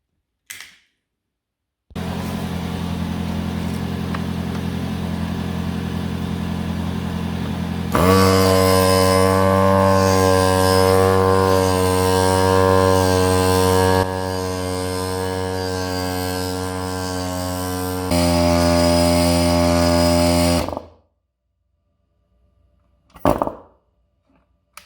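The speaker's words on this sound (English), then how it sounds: "For comparison, I will use a Volkswagen standard like air compressor that comes with most of the cars." A standard Volkswagen car air compressor runs steadily for about eighteen seconds, a loud tonal motor drone that changes pitch a few times, with silence before and after.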